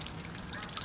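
Water drains from an RV water heater into a bucket, a faint, continuous pouring splash that rushes on with no break over its short span.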